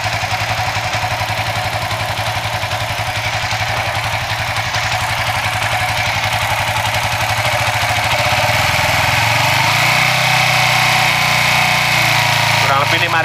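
A fuel-injected Suzuki GSX 150 motorcycle engine runs close by with a steady, loud drone that shifts and climbs in pitch partway through as the throttle is opened.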